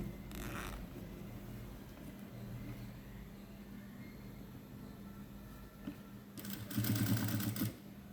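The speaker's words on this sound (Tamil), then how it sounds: "இதே மாதிரியே தைச்சிட்டு வாங்க கீழே எந்த துணியும் சிக்கிறாத அளவுக்கு எடுத்து எடுத்து விட்டுட்டு தேய்ங்க" A sewing machine stitches a zipper onto a long gown in short runs, its motor whirring and needle rattling quietly at first and then building to a louder, fast mechanical burst near the end, without speech.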